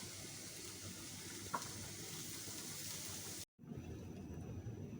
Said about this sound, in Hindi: जैसे कि मैं शिमला मिर्च डाल दूँ इसमें।